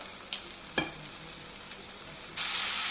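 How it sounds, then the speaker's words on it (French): Perch fillets fry in a pan with a soft, steady sizzle, punctuated by a few light clinks and taps, then the sizzle swells louder near the end as the heat is raised. "On va faire cuire nos petits filets de perche."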